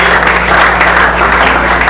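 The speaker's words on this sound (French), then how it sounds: "Acclame très fort pour le Seigneur." A church congregation claps loudly and steadily for the Lord, with dense applause filling the room, a few cheers rising through it and an organ or keyboard tone sustained beneath.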